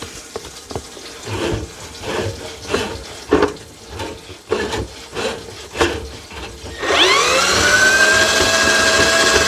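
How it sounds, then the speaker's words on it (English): Water flowing out of a kitchen sink drain just cleared with a cable snake, a steady loud rush that starts abruptly after a stretch of scraping and rubbing from the snake working the pipe. "So you guys can see the water coming out there now."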